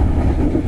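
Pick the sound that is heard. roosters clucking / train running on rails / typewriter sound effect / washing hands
train running on rails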